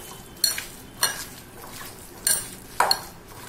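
Chopped cabbage being mixed with a little turmeric in a bowl, heard as a few separate clinks and scrapes of a utensil against the bowl, spaced apart over a quiet background with no speech.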